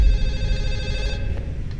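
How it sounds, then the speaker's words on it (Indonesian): A telephone rings in the horror video game Fatal Midnight, a loud, sustained electronic ring that cuts off partway through, followed by a brief quieter tone. "Suara telepon."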